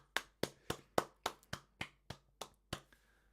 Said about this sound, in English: Let's get a round of applause for Daz in his first game